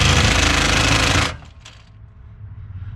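An impact wrench tightens a control arm bolt on a 1996 Toyota Camry, firing a loud, close, continuous hammering buzz for just over a second before cutting off abruptly into a low background hum.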